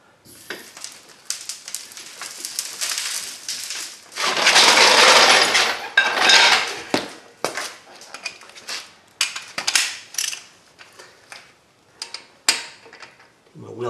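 A wrench works the wheel lug nuts and wheel lock on a 2016 Kia Sorento during a front brake job, giving a string of sharp metallic clicks and ratcheting bursts, irregular and close, with a longer grinding spin midway.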